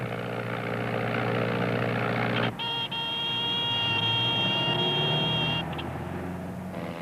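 A light airplane's engine and propeller drone steadily, then the note drops abruptly as power is chopped, leaving a lower whirring hum with a thin whining tone over it.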